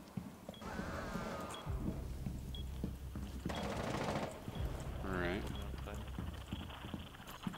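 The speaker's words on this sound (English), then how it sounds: "Serious gunfire going on back here." Bursts of gunfire in the video game Rainbow Six Siege, rapid automatic fire and scattered shots at moderate distance amid game effects, with a player's voice talking over it.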